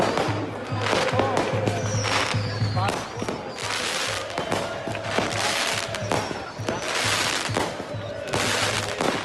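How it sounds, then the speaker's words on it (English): Fireworks and firecrackers going off in a street celebration, with dense, loud crackling bursts and pops throughout, some whistling rises, and voices faintly under the noise. "just want to share all the fireworks,"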